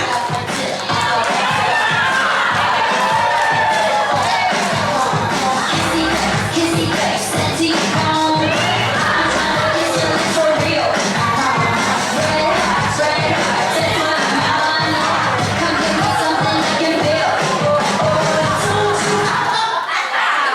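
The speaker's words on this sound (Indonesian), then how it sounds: "Tepuk tangan buat Tasik Malaya." Crowd at a women's church gathering responds for Tasik Malaya with loud continuous cheering, shouting and clapping, a dense roar of many voices that holds steady for about twenty seconds.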